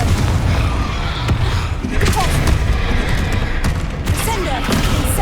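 Confringo fire spells in Hogwarts Legacy burst into a run of heavy explosive booms and thuds, loud and close, with crackling blasts layered over dense game noise.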